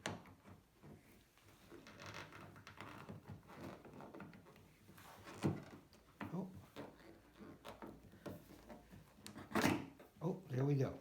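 A snapped-in door handle on a BMW E46 Convertible is pulled free of its clips, giving a couple of sharp plastic clunks amid quiet handling noise close by.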